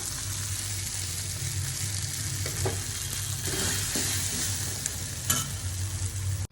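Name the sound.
beef liver frying and being stirred in pan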